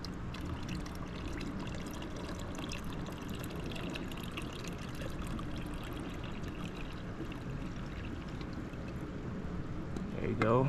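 Liquid pool chemical poured slowly into green pool water, a steady close trickling and splashing stream that swells slightly louder near the end.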